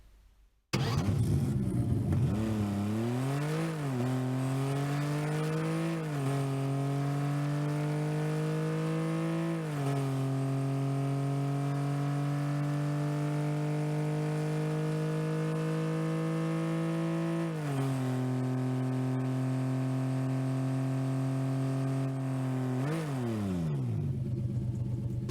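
The Dingo car engine from Rocket League plays alone, a loud, steady synthetic engine tone that rises in pitch through several shifts, holds at a high drone, then drops and climbs again.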